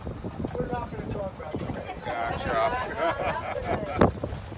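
Horse hooves clip-clopping as horses pull a carriage on a horse-drawn wagon tour in Portland, Maine, irregular clops mixed with background chatter and ambient noise, a sharper knock near the end.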